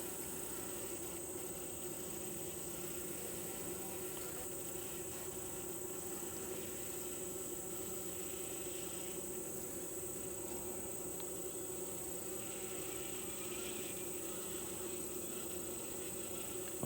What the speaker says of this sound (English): now her tending bees seem to be a little bit more agitated